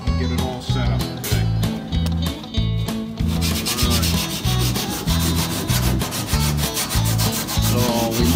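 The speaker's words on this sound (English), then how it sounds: "We're gonna scuff that down. This way, the glue will stick to it." A wagon wheel tub is scuffed down in rapid back-and-forth rubbing strokes, a close, rhythmic scratchy abrasion that continues throughout, with a voice speaking faintly in places.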